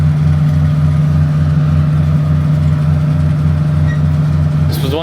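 A New Holland DM135 machine works in a harvest field, a steady loud engine drone with a pulsing low throb and no break in the sound.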